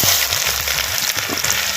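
Chopped large onions fry in hot oil in a clay pan for a Karaikudi Chettinad country chicken gravy, giving a loud, steady crackling sizzle up close with no talking.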